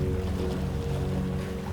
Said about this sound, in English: The engine tone lowers, the hum thinning out beneath your feet,